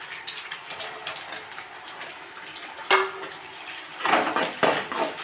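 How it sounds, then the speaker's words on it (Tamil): A spatula stirs chopped onions in a frying pan, making uneven scraping and metallic clanks up close, with a louder cluster of clatter near the end over a faint background hiss. "வெங்காயத்தை கிண்டிக்கலாம்"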